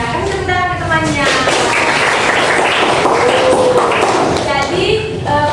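Students in a classroom clap for a classmate in a brief burst of applause, with voices talking just before and after the clapping.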